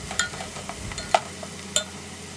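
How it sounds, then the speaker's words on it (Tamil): Onions and green chillies sauté in a pan for prawn biryani. Soft sizzling runs under a few sharp scrapes and taps of a stirring spoon, heard close with no voices. "வெங்காயத்தை நல்லா செவக்கிற அளவுக்கு வதக்கி விடுங்க"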